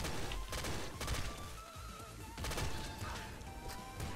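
Rapid-fire gunfire from the video game Nuclear Throne Ultra Mod rattles in dense bursts of shots with crunchy impacts, under busy game effects and a faint tonal whine.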